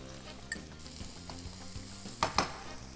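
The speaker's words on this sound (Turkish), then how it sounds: "İlk olarak soğanları biraz karamelize edeceğim." Onions caramelize in a hot pan for a Turkish spinach and celeriac salad, a soft steady sizzle punctuated by a few spoon clicks and scraping stirs near the end.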